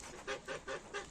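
Four evenly spaced honks from a goose, close by, each short and nasal against a faint background hiss.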